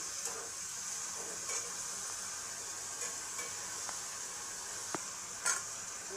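Bitter gourd, potato and onion frying in a little oil, a quiet steady hiss and sizzle with occasional soft clicks and taps of a utensil or lid.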